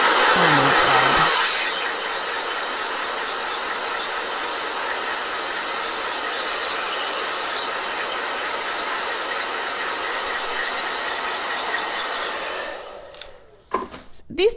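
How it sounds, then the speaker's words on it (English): A blow dryer roars steadily up close for about twelve seconds, then winds down and cuts off, leaving brief clatter and quiet at the end. "Blow dryer."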